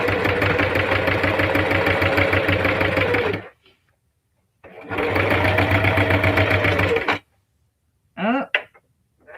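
A sewing machine stitches denim onto a clear vinyl bag with a standard rather than Teflon foot, its thread fraying. Two loud, rapid stitching runs of about three seconds each are separated by a pause, followed by a brief throaty vocal sound.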